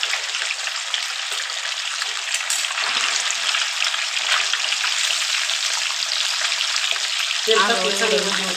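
Fish fries in hot oil in a wok, a loud, close, continuous sizzle and crackle that holds steady throughout, with a brief shift in texture near the end and no speech.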